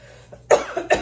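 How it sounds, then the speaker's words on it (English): Two sharp coughs close to the microphone, one after the other, preceded by a faint throat sound. "I still get a cough when I talk too much"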